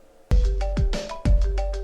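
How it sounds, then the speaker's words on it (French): A mobile phone ringtone plays a bright, repeating melodic pattern of short tones, loud and close, with no voices over it. "les sonneries des téléphones sont diverses et variées"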